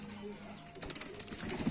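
Domestic pigeons, Teddy, Rampuri and Golden breeds kept for sale, coo softly at close range, with low murmuring calls rising over steady background hiss during the second half.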